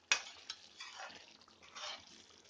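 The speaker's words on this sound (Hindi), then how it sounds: "एक बार चला देते हैं पहले" Yogurt being stirred into a pot of chicken and bhindi curry with oil, giving faint scraping and clinking strokes of a spoon against the pot, a few short separate movements with no talk.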